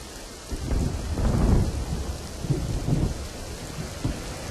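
Heavy rain pouring during a thunderstorm in Aravalli, Gujarat, a dense steady hiss of rainfall with low rolling rumbles of thunder swelling through the middle.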